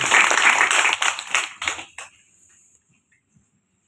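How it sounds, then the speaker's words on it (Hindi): An audience claps loudly together for about two seconds, the applause thinning into a few scattered claps before fading to near silence. "एक जोरदार ताली इस इंडस्ट्री को।"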